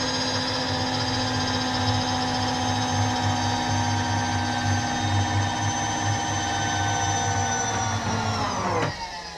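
A machine steadily whines and hums while cutting the gasket surface of a cylinder head, a loud continuous tone with a low rumble underneath, close by, shifting pitch near the end.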